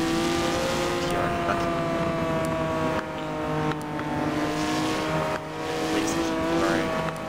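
Race cars lapping Daytona in the Forza racing game, a loud sustained engine whine with rising pitches and gear changes, a few brief dips as the engine note drops.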